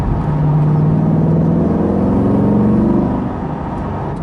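A 2020 Chevrolet Corvette C8 Stingray Z51 with a naturally aspirated V8 drives along, its engine a steady, loud low hum with a slowly rising pitch, heard from inside the car and easing off at the end.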